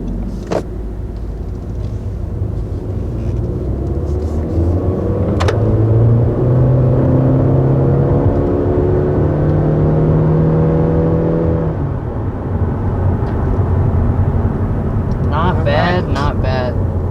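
A 2021 Honda Civic Hatchback climbs uphill at about 60 mph. Its cabin is filled with a loud, steady road and engine drone, the engine tone rises as it accelerates, and brief clicks and a short voice come near the end.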